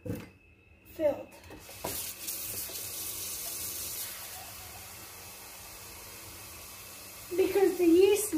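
A kitchen tap runs steadily to fill a pan for oven steam while baking croissants, a soft continuous hiss with brief clatter and a voice speaking over the water.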